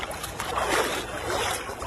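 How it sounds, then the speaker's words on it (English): A dog makes its first paddles in water, soft splashing and lapping close by, faint and continuous for a brief moment. "Come on, doggy paddle, doggy paddle."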